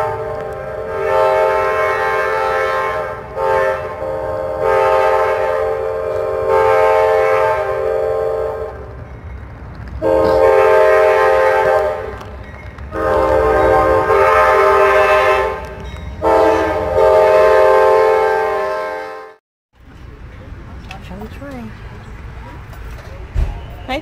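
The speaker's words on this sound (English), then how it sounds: "I hear that train coming. I hear it coming." A train approaches with long, loud horn blasts repeated in a pattern, rumbling steadily underneath, before a brief quiet and a lighter mechanical hum.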